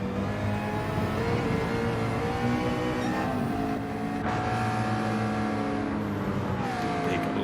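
A long line of racing cars streams past in a row, engines droning and rising in pitch with overlapping motor whine and passing roar, steady and fairly loud throughout.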